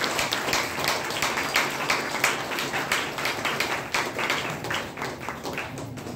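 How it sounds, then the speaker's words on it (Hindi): An audience at a product presentation claps loudly and steadily for several seconds, a dense, even roll of hands without talk. "हमारे जितने भी प्रोडक्ट हैं सभी के लिए जोरदार ताली बजाएंगे हम सभी लोग"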